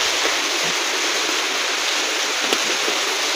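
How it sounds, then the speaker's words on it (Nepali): Heavy, sudden rain pours down in Darjeeling as a steady, loud broadband hiss that fills the whole stretch with no pauses, with only faint scattered clicks within it. "हेर्नु चाहिँ यस्तो पानी पर्दैछ"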